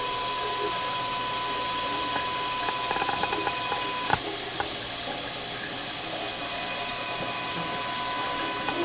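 A spin rinser dryer runs its rinse cycle: steady machine whir with running water, a few faint mechanical clicks and one sharp knock partway through, continuous and moderately loud.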